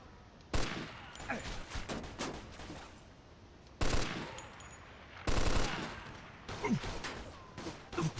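Several bursts of rapid automatic gunfire in the video game Mafia II crackle out, separated by short pauses, with the shots coming in quick clustered volleys.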